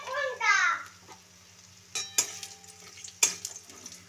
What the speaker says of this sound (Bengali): বাদামগুলো একটু ভেজে নিই।